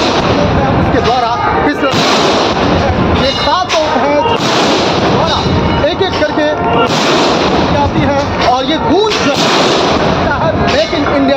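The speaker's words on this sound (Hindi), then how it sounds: "उसके बाद दी जाती है 21 तोपों की सलामी।" Booming artillery gun salute of 21 cannons at Red Fort, Delhi, on Independence Day, repeated loud blasts over a dense crowd and ceremonial din, with voices in the background throughout.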